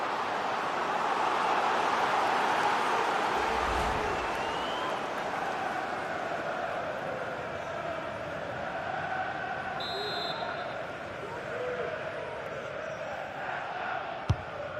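Stadium crowd at a FIFA 23 Premier League match between Leicester and Chelsea, a steady, dense roar of cheering fans that swells slightly early on, then holds at an even level throughout.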